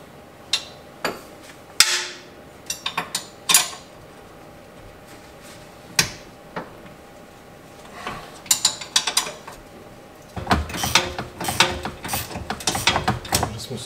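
Ratchet wrench loosening the transverse bolt on a BMW E39 suspension, giving scattered clicks and ratcheting bursts that build into a dense run of rapid clicks near the end, close by with no talk.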